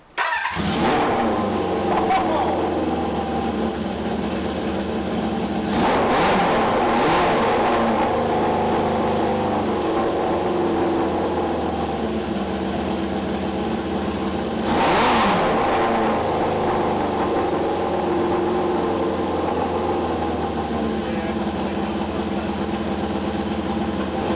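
A 1978 cafe scrambler motorcycle engine is started and then revved in steady, loud bursts, with the throttle blipped around the sixth and fifteenth seconds over a continuous running drone.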